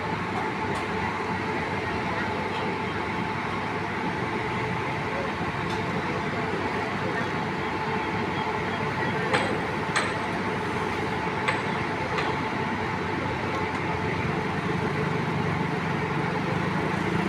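Air-conditioned diesel railcar express train with extra coaches rolls into a station platform, a steady rumbling engine drone with wheel and rail clatter, occasional sharp squeals and clicks, and indistinct voices in the background.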